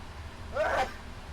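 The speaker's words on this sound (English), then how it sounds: "my guy sneezed" A single short sneeze from a pilot in Microsoft Flight Simulator, moderately loud, rises out of a low background hum.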